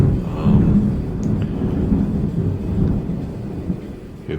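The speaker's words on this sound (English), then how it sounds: "Hear the thunder?" Thunder from a morning storm rolls as a low, continuous rumble through the whole stretch, moderately loud and distant-sounding, with no talk over it.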